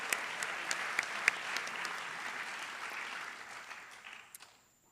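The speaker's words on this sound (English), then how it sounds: "let's give a round of applause for the social studies teachers who did this speaker series" An audience applauds the social studies teachers behind a speaker series, with soft, distant clapping, a few sharper individual claps standing out early before it thins and fades away.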